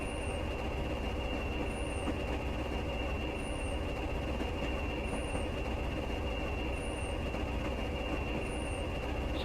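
Class 20 diesel locomotive running on the Stranraer Harbour to Dumfries line in Train Simulator Classic, a steady rumbling engine drone with a constant high whine and faint periodic clicks of wheels over rail joints, alone without talk.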